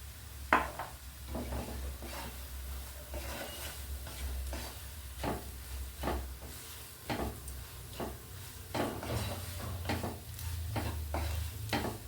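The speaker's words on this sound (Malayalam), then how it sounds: "മല്ലിപ്പൊടി മൂത്ത് തുടങ്ങിയിട്ടുണ്ട്. ഇനി നമുക്കിതിലേക്ക് മുളക് പൊടി ചേർക്കാം." Coriander powder dry-roasting in a pan, with a spoon or spatula scraping and stirring in irregular strokes over a soft continuous sizzle, close and fairly quiet, with no talking.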